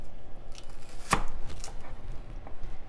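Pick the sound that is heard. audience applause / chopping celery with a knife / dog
chopping celery with a knife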